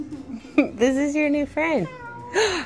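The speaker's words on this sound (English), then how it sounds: "He's meowing." A toy cat gives several electronic meows, rising and falling tones in short bursts close by, mixed with a woman's speech around a reborn baby doll outing.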